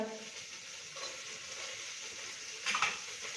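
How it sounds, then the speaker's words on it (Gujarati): Vegetables with tomato are stirred in a pan for biryani, a soft continuous sizzle with quiet scraping strokes, plus a brief louder clatter near the end. "ટમેટું ત્યાં અંદર નાખી અને એકદમ સરસ આવી રીતે હલાવી લઈએ"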